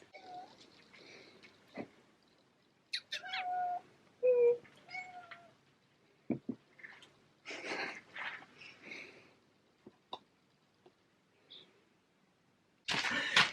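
Several quiet, high-pitched kitten meows come in short bursts with pauses, alongside faint rustling and a louder noisy burst at the end.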